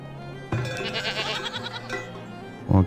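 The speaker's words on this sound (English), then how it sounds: "goat barns are doing okay." Goats bleating in goat barns within the Farthest Frontier game, a couple of loud, close bleats with a short pause between them.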